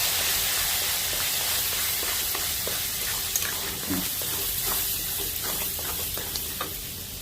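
Fish paste frying in hot oil while being stirred with a utensil, a steady close sizzle with scattered scraping and clicking stirs throughout, no talking.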